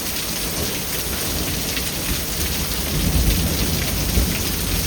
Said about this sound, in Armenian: Կարկուտ է, կարկուտ։